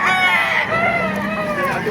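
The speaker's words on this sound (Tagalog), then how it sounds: "napakarami ngayong manok ngayon dito sa baliwag" Chickens and roosters at a busy poultry market in Baliuag crow and cluck continuously, close and loud, over a murmur of people in the background.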